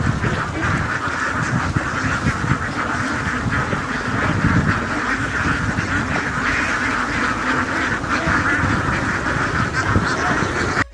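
A large flock of ducks quacks constantly and noisily close by while being fed rice tossed into the water, dense overlapping calls with a voice talking beneath them.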